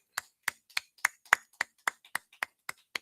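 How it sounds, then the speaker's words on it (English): In a history class, a single pair of hands claps in a steady, evenly spaced rhythm of about eleven sharp claps, close and fairly quiet with silence between each. "Clap it up, clap it up, clap it up."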